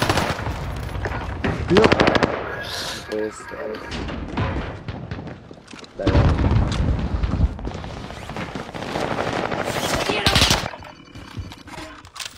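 Rapid machine-gun bursts and single gunshots ring out in a video game firefight, loud volleys recurring across the span while players shout excitedly over the shooting.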